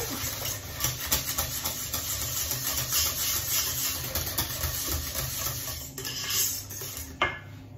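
Chocolate cake batter mixed with homemade unsweetened apple compote in a bowl, a continuous close scraping and stirring of utensil against dish with soft clinks, steady throughout and without talk.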